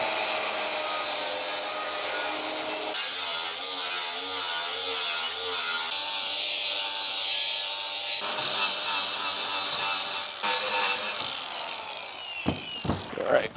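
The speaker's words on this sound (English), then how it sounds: "Clean up everything with the grinder." An angle grinder cleans up the metal of a homemade NASCAR-style spoiler for a work truck, giving a loud, high whining rasp that shifts pitch as it bites and eases off, with a few sharp clanks near the end.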